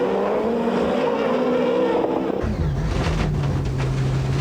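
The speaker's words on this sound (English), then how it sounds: "The black Peugeot sliding around, Gollop going up and down through the gearbox." Rallycross race cars, including a black Peugeot, slide around the track. One engine drops in pitch as the driver shifts down through the gearbox, then a deeper, rougher engine note takes over, loud and close.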